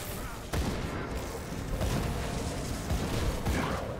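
Snipers firing and ether grenades bursting in the action RPG Grim Dawn, heard as a dense, continuous clatter of muffled shots and thumping blasts layered under steady game noise, with a sharper hit near the start.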